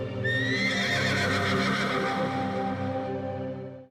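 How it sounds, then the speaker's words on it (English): A stallion gives a long, loud, shrill whinny that rises and then trails off over about four seconds, with faint clip-clop of hooves underneath. "they can still hear the screams of a stallion"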